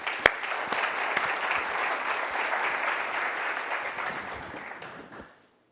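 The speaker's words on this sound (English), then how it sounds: "I give yourself a round of applause" Audience applause at a patient safety summit, a dense crowd clapping steadily and loudly with no talk over it, then fading out near the end.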